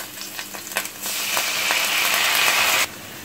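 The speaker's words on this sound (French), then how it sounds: "Je vais ajouter l'oignon que j'ai coupé en très petits morceaux. Je vais revenir quelques instants." Finely chopped onion hits hot oil for a chtitha lham beef stew. Soft clatter and stirring come first, then a loud, steady sizzle that holds for about two seconds before stopping abruptly. No voices.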